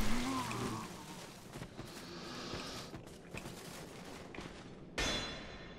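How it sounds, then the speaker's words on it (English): Gunfire aimed at the player in the video game Dark Souls II: a few sharp shots and impacts over a busy game background, with a louder crack near the end. "But someone's shooting at me"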